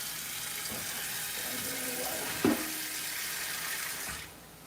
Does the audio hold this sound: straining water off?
yes